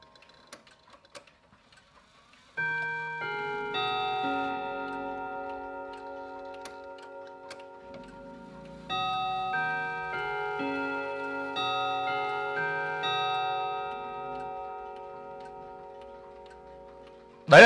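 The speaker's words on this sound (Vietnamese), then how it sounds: "Đấy là tiếng chuông của chiếc đồng hồ Verdes thùng vân sồi các bác ạ." Chime of an antique Verdes clock in an oak-grain case with a brass movement: after a few soft ticks, a long sequence of sustained, ringing bell tones sounds close up and alone, pausing briefly before resuming.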